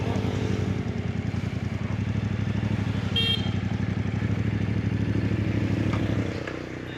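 A 450cc CLC motorcycle engine idles close by with a steady, fast thumping beat, a brief horn toot near the middle, then the engine note falls away near the end.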